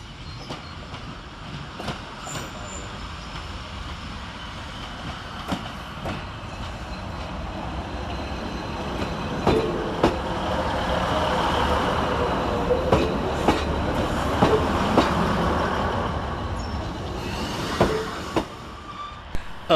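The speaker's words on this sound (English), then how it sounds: "Arriving next to terminate with a northern service off of Newcastle is" A Northern train from Newcastle, unit 156487, pulls into Carlisle station, terminating there. It rumbles in with clickety-clack wheel sounds and sharp, intermittent squeals, growing louder toward the middle and end, with no voices.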